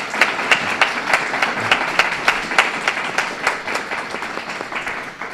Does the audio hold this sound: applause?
yes